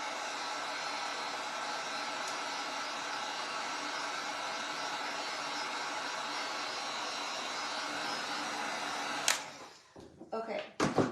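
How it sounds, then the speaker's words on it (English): A hair dryer drying paint blows with a steady, loud whooshing hum for several seconds, then cuts off, followed by a few handling clicks. "I'm gonna take that dryer. I'm just gonna make sure that that is dry."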